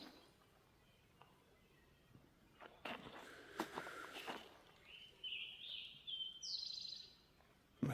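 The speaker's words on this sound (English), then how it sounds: "Birds are awake." Birds call in the morning along the Appalachian Trail in North Carolina, a few faint high chirps and short trills toward the end, with rustling and footstep-like sounds nearby in a quiet outdoor setting.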